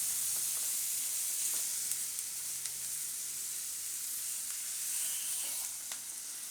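Wheat ghughri mixed with tomatoes cooks on low gas, giving a steady, soft, even sizzle that runs alone and never lets up.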